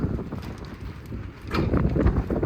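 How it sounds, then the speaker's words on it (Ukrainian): Gusty wind buffeting the microphone outdoors on a farm with construction under way, rumbling rough and loud, easing briefly then surging stronger again. "Рве трохи вітерець."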